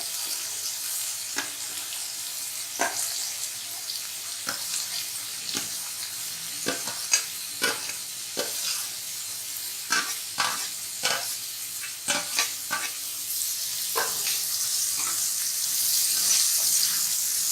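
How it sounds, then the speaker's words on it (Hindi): Onions frying with cumin seeds in a pan for egg bhurji, a constant sizzle broken by repeated sharp stirring clacks of a spatula at an irregular rhythm throughout. "अब मैं प्याज डाल रही हूँ।"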